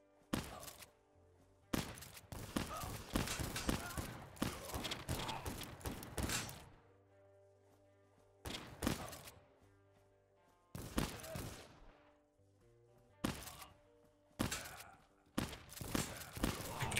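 Rapid bursts of gunfire in a Texas ranch shootout within a video game, several loud volleys separated by short quiet gaps, with no talk.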